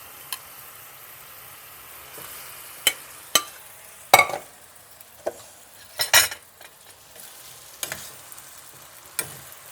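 Spaghetti tossed in a pan of sizzling garlic oil with anchovies, a soft fry hiss under scattered sharp clinks and scrapes of a utensil stirring against the pan, heard up close with no talking.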